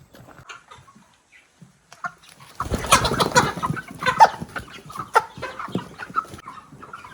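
Broiler chickens cluck and squawk inside a poultry house; a scattered, quiet start swells into a loud, dense chorus of many birds calling close by.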